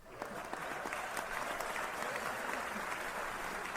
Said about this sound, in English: if you want a crowd clapping, you can do that too